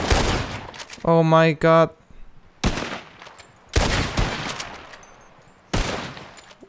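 Rifle gunfire in Red Dead Redemption 2 during a wolf hunt: four sharp, loud single shots spaced a second or two apart, each with a short decaying echo, and a person briefly exclaims between them.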